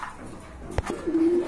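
Red checker racer pigeons at a pigeon market, with a low coo rising near the end of the short stretch after a brief knock, close and fairly soft against quiet background noise.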